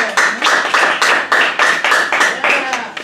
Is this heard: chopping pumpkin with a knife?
no